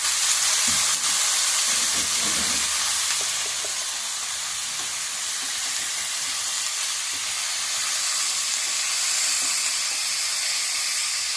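Cauliflower pieces fry in a pan, giving a steady hissing sizzle that holds fairly loud and close throughout, with a few soft stirring knocks early on and no talking.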